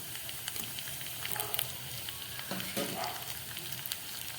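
Fried fish head and tail go into a pan of sizzling fried onion and garlic, giving a steady close-up frying hiss with a brief burst of louder crackle and stirring in the middle.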